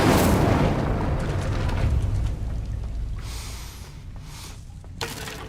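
A fire spell is cast in the fantasy video game Hogwarts Legacy, with a loud whooshing burst that roars and then slowly fades over several seconds, followed by a few faint game effects.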